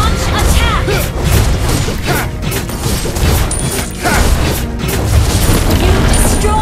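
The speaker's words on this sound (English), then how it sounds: "You destroyed a turret!" A turret is destroyed in Mobile Legends amid loud, dense game audio: booming impacts and crashing effects layered over continuous music and a voice.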